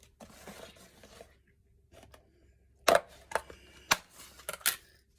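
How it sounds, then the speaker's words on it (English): A knife cuts the edges off a pineapple on a board, giving a few sharp, close slicing and chopping strokes after quiet rustling, with soft scrapes between cuts. "cut the edges off of the pineapple"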